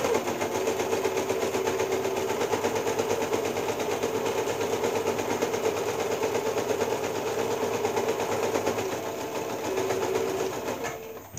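A sewing machine runs steadily, stitching fabric for a toiletry bag, its fast even needle rhythm loud and close for the whole stretch before stopping abruptly at the end, with no talking.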